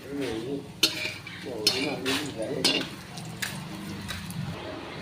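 Soybean chunks frying in oil with a spoon turning them to cook the second side; repeated sharp clinks and scrapes over a low sizzle, with talk between.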